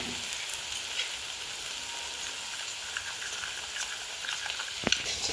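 Spices fry in oil in a pan, giving a continuous, even crackling sizzle at moderate level, with a single brief knock near the end.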